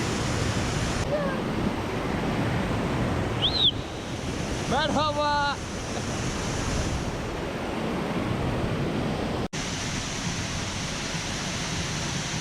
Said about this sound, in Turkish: Malle şelalesinin yakınına gelince kulağımıza gelen bu su sesi bizlere müthiş bir huzur verdi.